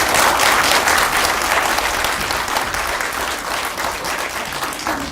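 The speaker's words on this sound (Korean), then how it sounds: "다시 한번 박수 부탁드립니다" An audience at a Korean history presentation applauds after a speaker finishes, dense clapping holding loud and steady before easing slightly toward the end, with no talk over it.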